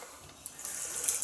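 Hot water runs steadily from a tap into a sink during shaving, a continuous close splashing hiss that grows slightly louder toward the end.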